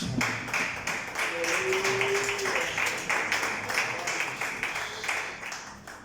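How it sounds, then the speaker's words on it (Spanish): A church congregation clapping in praise to God, rhythmic unison claps beating steadily, with a sustained tone and some voices underneath. "Denle un fuerte aplauso a Dios"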